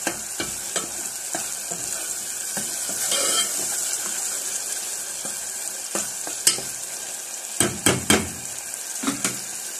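Beef liver and onions frying in a pan while being stirred: a steady close sizzle with scraping stirs and sharp utensil clinks toward the end.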